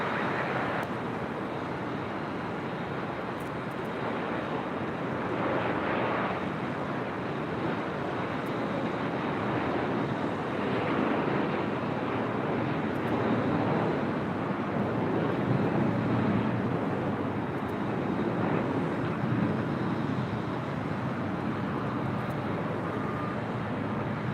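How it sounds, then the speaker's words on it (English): A Southwest Airlines jet arriving from Las Vegas lands at LAX on runway 24 right, a steady broad roar of jet engine and rushing air that swells and holds throughout, heard from the airport surroundings. "That was Southwest Airlines Flight 1234 coming in from Las Vegas"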